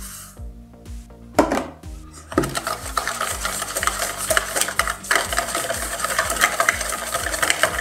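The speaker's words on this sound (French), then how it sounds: "J'ajoute ensuite l'œuf entier et je vais continuer à fouetter pour faire monter le mélange." Softened butter and caster sugar whisked together in a bowl, a fast, rhythmic scraping and clinking of a whisk against the bowl, loud and close, growing busier after a couple of slower strokes, with no talk.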